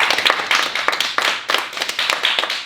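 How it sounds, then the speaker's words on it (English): A cheer squad at practice claps together, a lively round of overlapping hand claps that rises and falls in quick uneven bursts, sounding close and moderately loud. "So clap it up, everybody."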